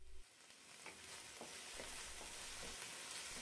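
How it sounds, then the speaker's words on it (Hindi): Spices, coriander powder, black pepper and tomato paste sizzle and fry in a pan while being stirred, with a steady soft crackle and faint scraping strokes at intervals. "सबको अच्छे से मिक्स कर लेंगे और इसे अच्छे से चलाते हुए फ्राई करेंगे।"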